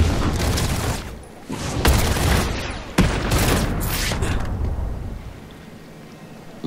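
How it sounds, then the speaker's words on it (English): Sniper gunfire in the video game Batman: Arkham City: a few sharp, loud shots ring out over a dense, rumbling game soundscape, each followed by a short decay. "I hear them trying to snipe me again"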